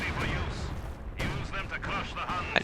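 Rifle shots from Soviet guard riflemen in the Company of Heroes 2 battle, popping repeatedly amid dense battlefield noise, with artillery-like rumble and a sharp crack near the end.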